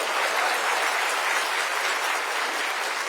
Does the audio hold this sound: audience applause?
yes